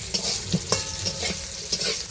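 Food frying in a pan, browned until deep red, with repeated stirring scrapes over a steady close sizzle.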